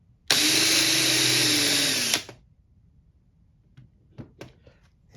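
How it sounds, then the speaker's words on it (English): A power drill drives a screw into a DIY wooden balance board in one steady, loud whir lasting about two seconds, then stops; faint handling clicks and knocks follow. "I'll go ahead and put a bit in and drive my screws down in there"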